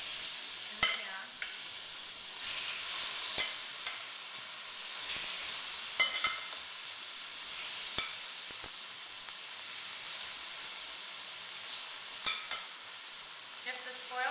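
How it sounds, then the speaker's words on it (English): Meat for a stir fry sizzles steadily in a pan, a close, even hiss broken by a few sharp spatters and light clicks of stirring, with no talking. "I'm going to spread out the meat"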